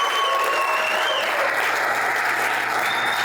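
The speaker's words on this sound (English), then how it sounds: "Give a round of applause for Dan McCay." Audience applause at a political event for a state senator, a dense, continuous clapping from a packed room at steady high volume, with faint tonal feedback from the sound system running through it.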